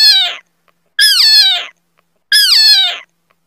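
A cat meows three times, each a loud, close, drawn-out call falling in pitch, spaced about a second apart with silence between.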